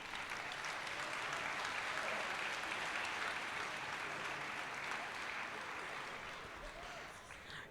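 An audience at the 2019 Reapercon awards ceremony claps for painting winners, a broad, sustained round of applause that holds steady and then gradually tapers toward the end.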